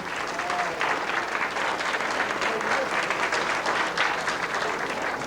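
A steady, dense round of audience applause for a musician goes on without a break at an even, full level, with a faint voice underneath.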